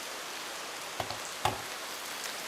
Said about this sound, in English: I don't know if you can hear the rain, but we've got rain it's coming